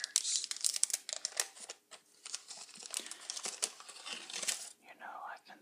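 A Nintendo Game Pack of scratch-off cards and stickers being opened close up, with dense crinkling and tearing of paper packaging in uneven bursts and a few brief pauses, and quiet speech mixed in.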